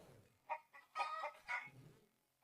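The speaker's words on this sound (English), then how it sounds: "you can see how my hen laid an egg and now she just dropped it" A hen clucks after laying an egg, giving several close, fairly loud squawking clucks in a quick, uneven burst with no talk.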